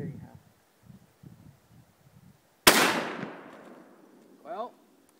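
A single sharp, loud gunshot at an outdoor shooting range, fired at a target, with a sudden crack and a ringing decay, preceded by quiet talk and followed by a brief voice.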